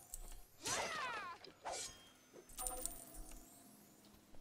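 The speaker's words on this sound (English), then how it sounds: "If I can't take it, I'm smashing it." An object is smashed in the video game City of Brass: a loud, bright shatter with ringing, jangling debris, followed by a second crash and scattered rattling fragments, heard alone.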